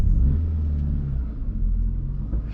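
A car moves off slowly in first gear through a narrow gap, a low steady engine rumble close by at near-idle, with no voices.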